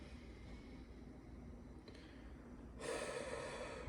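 A person takes a single deep breath, a soft rushing inhale near the end rising over a faint, steady background hum.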